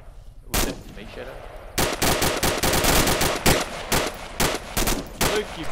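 Rapid gunfire in the military shooter ArmA II, one sharp shot followed by sustained bursts of automatic fire, loud and close, with dense rapid cracks and no speech.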